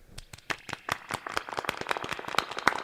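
A small group claps together in a room at the end of a live session, a quick run of sharp, fairly close hand claps building slightly in density over a few seconds.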